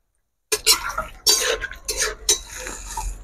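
A spoon stirs Kashmiri aloo dum potatoes in a metal pot, making several bursts of scraping and clinking against the pot sides, loud and close, with short pauses between strokes.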